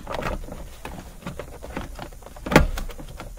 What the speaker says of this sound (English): Now we can spread the sides of the column cover plastic